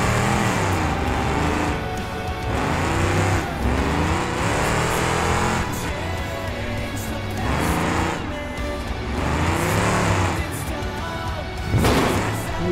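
A truck in BeamNG's Tuff Trucks event revs hard in loud, pulsing bursts through its run, each rise and fall of the engine repeating several times.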